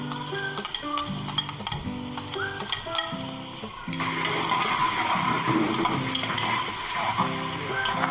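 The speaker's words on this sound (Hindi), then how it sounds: "लहसुन अदरक का पेस्ट डाल देना है" Garlic ginger paste frying in hot oil with onions for dhaba-style chana dal, a steady sizzle that swells louder midway, with clinks of a spoon stirring in the pan and no talk.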